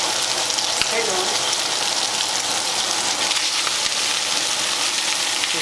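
Potatoes fry in a hot pan with a steady, loud, dense sizzle throughout, broken by a few sharp crackles and pops and light stirring.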